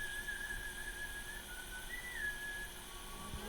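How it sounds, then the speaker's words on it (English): A solo human whistle carries a wavering, sliding melodic line through a quiet room, with a few short held notes over a soft steady background hiss. "I'm definitely up for the whistle though. Yeah. The solo whistle."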